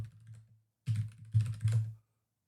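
Someone types a password on a computer keyboard, making a few quiet, short bursts of key clicks with brief pauses between them, close by and without talk.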